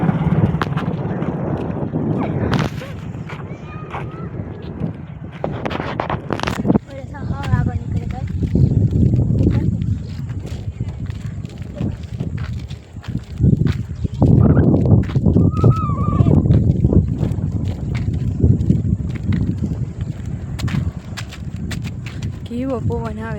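Strong cold wind at a three-river confluence buffets the microphone with a heavy, gusting low rumble that continues throughout, while people talk over it.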